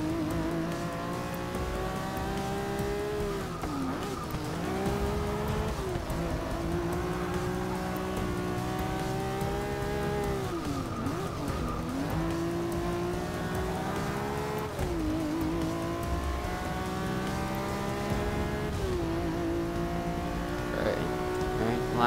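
Race cars in Forza Motorsport 6 roar continuously, engine pitch climbing and dropping through repeated gear shifts and braking dips, with a sustained loud whine and light tire noise across the whole stretch.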